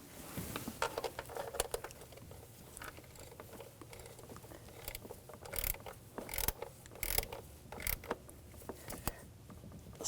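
A nut on a crankshaft position sensor of a 2007–2013 BMW X5 3.0L inline-six is turned down with a ratchet, giving close, quiet clicks in irregular bursts over about ten seconds, with no voices.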